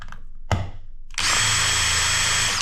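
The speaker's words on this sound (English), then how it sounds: "I've taken an old Phillips screwdriver, cut it off, flattened it, and put it in one of my drivers or electric screwdrivers here" An electric screwdriver fitted with a cut-off, flattened Phillips bit whirs loud and steady for over a second, preceded by a couple of brief clicks and knocks.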